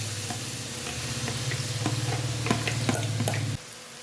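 Loud steady sizzling of chopped onions frying in hot oil with occasional light stirring clinks, then the sizzle drops away near the end.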